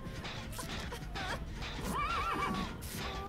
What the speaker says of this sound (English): Shut up, horse.